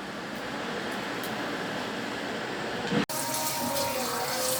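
Strawberries being washed under plenty of running tap water for jam, a steady loud gush of water close by that cuts off for an instant near the end and then keeps pouring.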